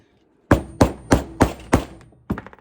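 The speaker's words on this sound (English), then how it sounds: "Give it a couple of whacks and start giving it some hits." Motorcycle fork on a Honda CB77 Super Hawk being struck to free the fork seal, five sharp metallic whacks in an even rhythm followed by two quicker lighter hits, close and loud with no talk.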